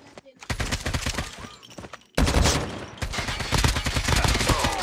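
Rapid automatic gunfire in the mobile shooter game Call of Duty Mobile, loud sustained bursts of shots, with a sudden jump in intensity midway and faint talk underneath.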